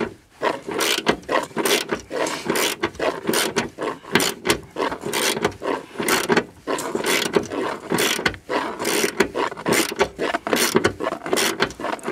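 Ratchet wrench clicking in rapid repeated bursts while tightening the bolts of an RV swivel seat, close and loud with brief pauses between strokes and no talking.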